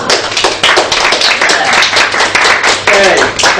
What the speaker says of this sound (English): Pedro, round of applause.